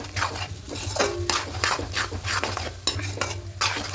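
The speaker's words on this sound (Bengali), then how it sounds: "এবার দিয়ে খুব ভালো করে কষিয়ে নেব।" Spiced chicken sautéing in a pan with turmeric, Kashmiri chili powder and salt, stirred vigorously: rhythmic scraping strokes over a steady frying sizzle, close and fairly loud, no talking.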